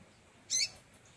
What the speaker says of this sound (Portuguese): É a mexidinha do Pedro do Papa Capim.